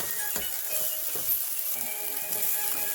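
Onions sizzle in a pan, a constant close hiss of frying broken by a few soft stirring clicks.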